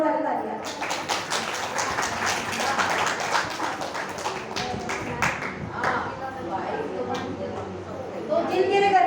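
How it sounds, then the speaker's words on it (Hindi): Lively applause greets two children at a Hindu religious discourse, many hands clapping in a dense, sustained patter across the hall with crowd chatter mixed in. "एक बार इनके अभिनंदन में जोरदार तालियां"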